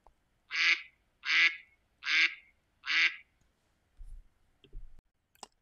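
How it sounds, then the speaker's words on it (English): Four evenly spaced, loud nasal quacks from a farm duck ring out one after another, followed by a few soft low thumps and clicks, with no talking. "That's the sound of a duck."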